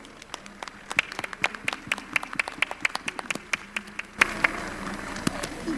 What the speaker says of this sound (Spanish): Un fuerte aplauso para todos ustedes.